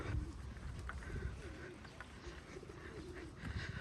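Soft cooing of pigeons comes through a steady outdoor background of water and low rumble in a park in Kryvyi Rih, Ukraine, with no one speaking.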